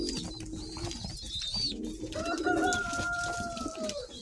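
Pigeons in a loft at feeding time coo steadily, their soft bubbling calls overlapping close by, with a brief higher bird note early on and no talk.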